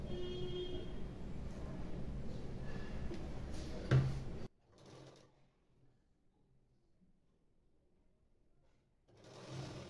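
A sewing machine stitching a hook-and-loop strip onto a blouse runs in a steady, close whir for about four seconds, then stops with a clunk; quiet follows before the motor starts up again at the end.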